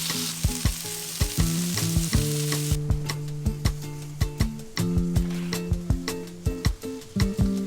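Sliced peppers and onions fry and char in a pan over an open flame, a bright sizzle at first with repeated clanks and scrapes of a utensil stirring through them.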